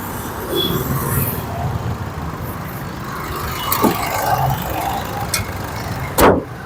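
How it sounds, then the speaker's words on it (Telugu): A 2018 Maruti Brezza VDI diesel engine idles with a steady, quiet low hum, broken by a few light knocks and a short louder burst near the end. "ఇంజన్ అయితే చాలా సైలెంట్ ఉంది"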